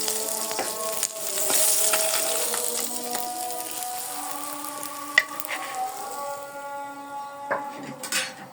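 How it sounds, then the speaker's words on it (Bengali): Pieces of rohu fish fry in hot oil in a kadai, a steady close sizzle running throughout with a few sharp clinks of a utensil against the pan. "মাছগুলো ভেজে নিচ্ছি"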